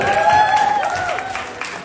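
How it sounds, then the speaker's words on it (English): A brief burst of audience clapping at a training session, loud and dense, with a sustained tone and some voices underneath. "so a huge round of applause for yourself"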